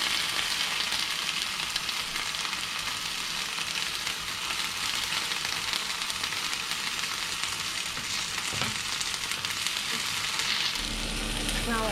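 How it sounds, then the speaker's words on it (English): Onions sear in a pan for a slow cooked beef dish, giving a continuous, even sizzle and hiss close by with little stirring and a brief low knock near the end. "the onions have been seared for a further 10 minutes, so that's 20 minutes in total just searing the onions"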